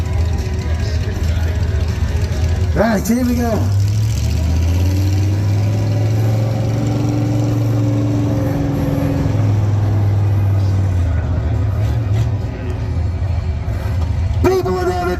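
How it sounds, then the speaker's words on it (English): A monster truck engine at a Devon truck show rumbles loud and close in a deep, steady drone, swelling and easing as it runs, with someone talking briefly over it at the start. "I'm in a monster truck."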